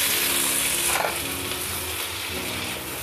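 Three tomatoes being stirred as they fry in a pan, with a steady loud sizzle and bubbling throughout and soft scraping of the stirring underneath.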